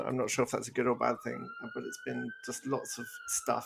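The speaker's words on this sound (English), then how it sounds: "to listen to all the sirens in Vancouver" Emergency vehicle sirens in Vancouver wail as a long rising and falling tone running under steady conversation, one voice talking throughout the clip.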